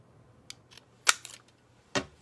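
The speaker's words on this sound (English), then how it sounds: "Just gonna take a square punch to cut a little divot out of my" A square punch cutting a small divot out of a strip makes a few sharp, close clicks and snaps, separated by short quiet gaps, with one firmer crunching cut near the middle.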